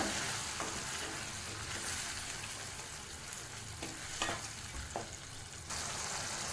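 Spinach puree is stirred in a cooking pan over a steady low sizzle, with soft scraping strokes and a few light clinks of the spoon against the pan.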